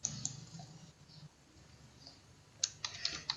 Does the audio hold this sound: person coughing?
no